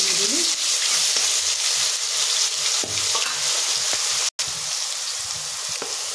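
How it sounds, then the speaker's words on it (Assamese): Ginger garlic paste fries in oil left over from frying potatoes, giving a steady close sizzle broken by scraping stirs and occasional spoon clicks. "আলু ফ্ৰাই কৰি লোৱা তেলখিনিতে মই এনেদৰে আদা নহৰু পেষ্টটো দি দিলোঁ"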